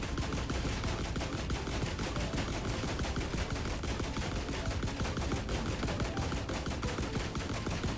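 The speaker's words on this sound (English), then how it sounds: "What are they shooting at?" Video game gunfire at nightfall, packed into dense, rapid bursts that run continuously and loudly through the whole stretch, with no talking over it.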